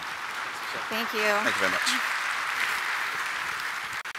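A large audience at a tech conference keynote applauds steadily as a speaker takes the stage, a broad, continuous wash of clapping while someone briefly speaks over it.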